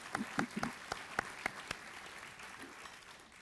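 Applause from an audience honoring an Iwo Jima veteran at a Stamford veterans' Patriot Award event: a few distinct, fairly faint claps scattered over a soft wash of crowd noise, tapering off toward the end.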